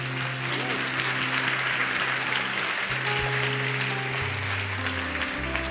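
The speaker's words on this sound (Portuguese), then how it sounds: "Aplauda Jesus." Steady, dense applause from a large church congregation fills the whole stretch, loud and continuous, with a low sustained musical tone underneath.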